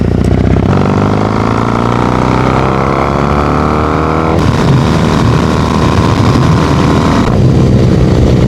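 A motorcycle under way, its engine loud and close throughout with rising revs through the gears, a shift with a brief change in pitch midway, and steady wind and road roar underneath.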